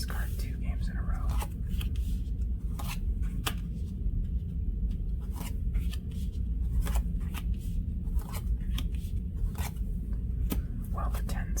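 Playing cards being dealt out one by one for a solitaire game, giving soft, close, repeated flicks and slaps on a table at an irregular pace.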